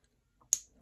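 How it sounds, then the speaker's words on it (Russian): A pearl bracelet's clasp snaps shut with a single sharp, bright click, preceded by a faint handling rustle in an otherwise quiet setting. "но щелчок все равно хороший"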